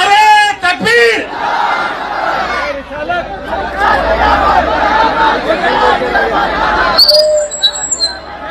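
A rally crowd shouts the takbir slogan in unison, loud massed voices rising and falling in chant over a dense background of hubbub and chatter, with a single voice leading at the start.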